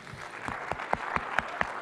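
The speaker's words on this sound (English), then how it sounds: "Let's clap for Mozilla team." An audience at an engineering summit claps in a quick, even rhythm of distinct claps, moderately close, with no speech over it.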